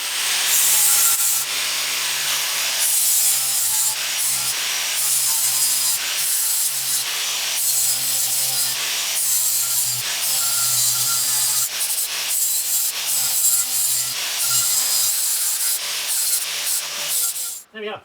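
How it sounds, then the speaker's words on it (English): Rust and worn ridges are scraped and sanded off the brake disc of a 2010 Ford Transit van with a continuous loud abrasive rubbing that pulses steadily in short strokes, close by, with no speech. "I've taken off all the ridges on the disc."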